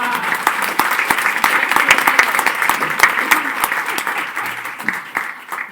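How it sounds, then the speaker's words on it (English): Brisk applause from a crowd at a school board meeting honoring student athletes, dense clapping that holds steady for several seconds before tapering slightly. "let's have another round of applause for these great athletes"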